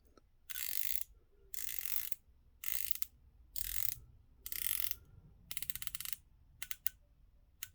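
Ratcheting clicks from the bezel of a Proxima aluminium diver's watch come in five or six close bursts, ending in a few quick separate ticks, with no voice.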